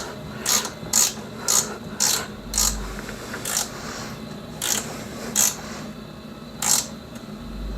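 A ratchet wrench tightens a bottom bolt on a snowblower, giving a string of about nine sharp, close clicking bursts at an uneven pace, with light mechanical rattles between them.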